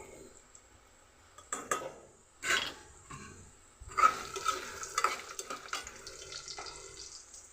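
Garlic and cumin seeds are dropped into plenty of hot oil, giving quiet sizzling broken by a few sharp stirring scrapes and clinks against the pan.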